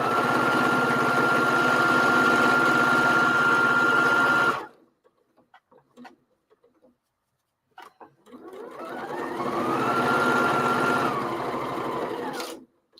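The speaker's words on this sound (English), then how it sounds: "So I'm just doing a quick 1/4 inch seam down the side." A sewing machine runs a quick quarter-inch side seam on a homemade grocery bag, a steady mechanical whir for several seconds, a pause with a few faint clicks, then a second burst of stitching that speeds up and stops.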